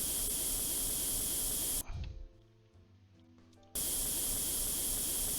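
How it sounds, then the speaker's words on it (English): A spray gun coats a tank's torsion bar in Tank Mechanic Simulator, a steady loud hiss that cuts off for about two seconds and then resumes at full strength. "Have I got to really spray every torsion bar?"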